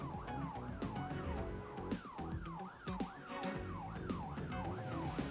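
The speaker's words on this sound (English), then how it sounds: "But watch how the police driver skillfully follows the motorcycle." A police car siren wails in a steady, repeating rise and fall during a chase after a stolen motorcycle, loud and close, with traffic noise beneath and no talking.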